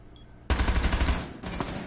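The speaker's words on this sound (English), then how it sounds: "Has to shoot the cam." Rapid automatic gunfire in a competitive video game match, shooting at a camera, a sudden loud burst that runs for about a second, pauses briefly, then resumes.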